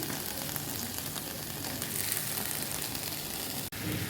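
Taro stolons dropped into hot oil with fried onion, giving a continuous soft hiss of frying, even and fairly quiet, with one brief click near the end.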